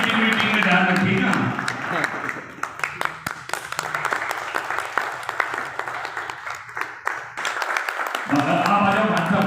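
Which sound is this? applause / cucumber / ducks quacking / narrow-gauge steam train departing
applause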